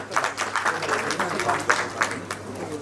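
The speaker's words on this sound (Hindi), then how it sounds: "बहुत जोरदार तालियां एक बार बजा दें।" A smaller audience at a community book launch claps with distinct, separate hand strikes in a loose rhythm at moderate volume, a sparse, uneven round of applause.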